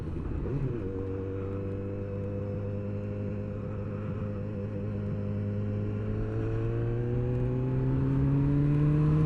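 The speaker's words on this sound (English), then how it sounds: "Actually loads more wind noise on this than on my MT" Motorcycle ride with heavy wind rush over a steady engine note that climbs gradually in pitch as the bike accelerates, loud and continuous with no talking.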